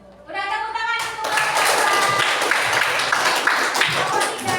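A classroom of children applauds for a group, dense rapid clapping that starts after a moment of voices and continues loud and steady.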